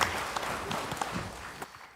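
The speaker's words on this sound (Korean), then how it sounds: "영광의 박수를 하나님께 드리겠습니다." Church congregation applauding during a Sunday worship service in Daegu, a broad steady wash of clapping that carries through the whole stretch and tapers slightly near the end.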